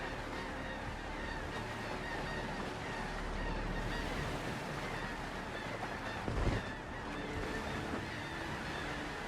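Ocean waves in the sailing game Windrose, a continuous loud wash of surf at sea with creaking and honk-like tones mixed in and a brief thud near the end, no talk.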